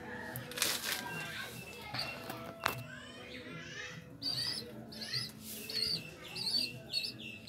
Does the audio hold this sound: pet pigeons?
yes